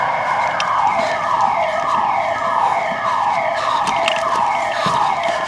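A loud electronic alarm siren in an abandoned metro wails continuously without shutting off, cycling up and down in a steady repeating pattern with faint background noise.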